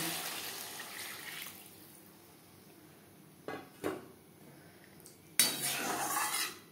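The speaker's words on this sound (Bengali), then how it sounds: "এবার দিয়ে দেব জল।" Water goes into a pot of katla fish curry with vegetables, first as a couple of clanking knocks against the vessel, then a steady, close rush of pouring to the end.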